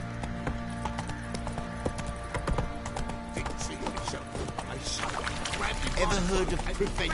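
Roach the horse galloping in The Witcher 3 video game, rapid rhythmic hoofbeats pounding close and loud over a low game soundscape, with a voice shouting near the end.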